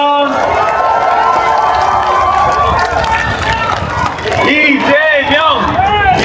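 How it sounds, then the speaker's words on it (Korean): A crowd at an outdoor political event in Busan claps and cheers loudly and steadily, with shouts and voices mixed in, and a voice chants near the end. "큰 박수 부탁드립니다"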